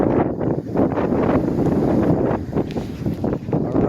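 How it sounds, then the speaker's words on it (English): Strong wind buffets the microphone outdoors at Duck Creek Quarry Park in Green Bay, a loud continuous roaring rumble with gusting swells and no talking. "pretty windy"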